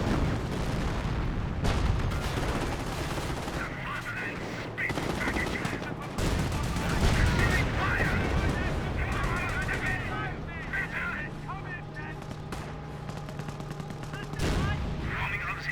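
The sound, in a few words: gunfire and tank shot in Company of Heroes video game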